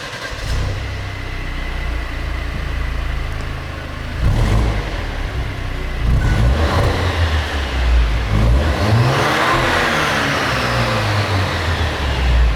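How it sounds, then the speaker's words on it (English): A small Italian 2-litre turbo engine runs steadily close by in a workshop, a continuous mid-pitched drone that rises into a few revs toward the end, with no talking. "let's have a look at this little 2-litre turbo engine"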